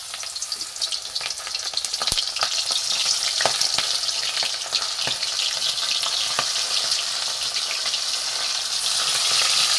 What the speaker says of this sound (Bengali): এখানে বাটা মাছগুলো আমি একটা একটা করে ভেজে নেব।